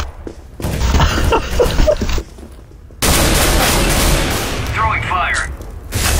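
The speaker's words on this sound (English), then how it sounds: "I'm throwing a grenade." A grenade goes off in Counter-Strike: crackling bursts of gunfire give way to a sudden, loud blast that swells into a sustained roar and fades slowly.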